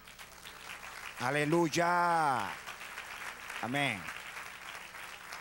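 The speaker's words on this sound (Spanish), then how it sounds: "Denle un aplauso ahora al Señor." Church congregation applauding for the Lord during a Spanish-language sermon, a steady patter of clapping beneath loud voices calling out in praise.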